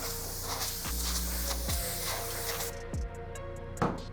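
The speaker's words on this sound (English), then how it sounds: "we actually just have canned air that we're gonna use" Canned air blows dust off a product before photographing it: a continuous close spray hiss runs for a couple of seconds, then cuts off, leaving a quieter room with a few faint clicks.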